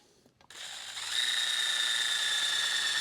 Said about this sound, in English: Anytime you're drilling a hole